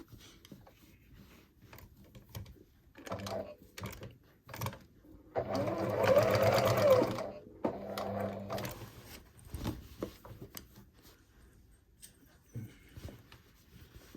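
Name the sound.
sewing machine stitching denim jacket collar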